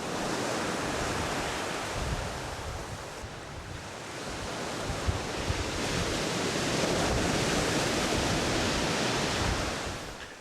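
Heavy sea surf breaking on a shingle beach at Hastings, a loud continuous roar of crashing waves with wind buffeting the microphone, swelling and easing over the whole stretch.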